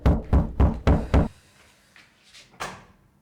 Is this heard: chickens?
no